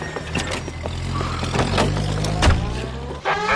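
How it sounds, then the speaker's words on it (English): A car pulls out of a driveway in the video game L.A. Noire, with a low engine rumble and revving that rises and falls over several seconds amid mechanical noises, loud and close. "That's the car, Cole. Just pulling out of the drive."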